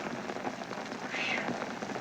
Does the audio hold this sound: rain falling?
yes